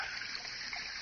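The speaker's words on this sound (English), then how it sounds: "Costs so little to run because it uses the same water" A garden fountain in a radio drama splashes and trickles in a steady, even wash of falling water, constant and fairly faint with no voices.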